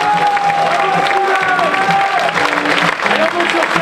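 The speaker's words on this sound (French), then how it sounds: "merci d'applaudir très fort" A ceremony audience applauds the gold medal winners of the Imagine Cup 2013 French final, dense sustained clapping filling the room, with a voice speaking over it and some music-like tones in the background.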